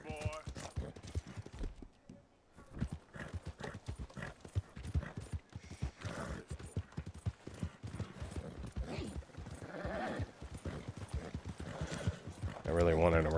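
Horse hooves clip-clop steadily through a video game ride, with a brief whinny near the end, all running under continuous talk.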